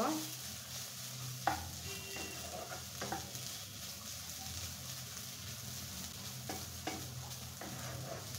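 Leafy greens with grated coconut fry in a pan, a soft continuous sizzle at low level, broken by a few light scrapes and knocks of stirring, with no talk.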